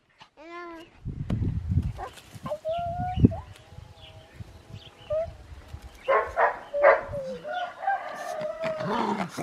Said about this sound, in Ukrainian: а ти тільки гавкаєш.